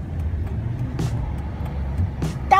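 A car drives and turns through city traffic, a steady low engine rumble close by with a few brief swishes of other vehicles passing.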